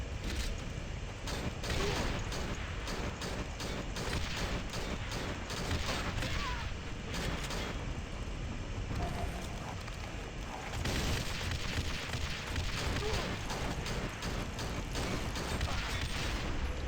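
Dense, continuous bursts of rapid gunfire and booms in the video game Left To Survive, loud and sustained throughout, with a brief lull partway through.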